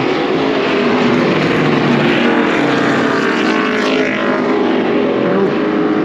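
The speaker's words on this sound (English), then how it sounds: "I want to say that's old DW's car right there." Loud, continuous roar of a race car's powerful engine running steadily on track at a speed festival, a dense droning wash of motor noise with no pauses and no voices.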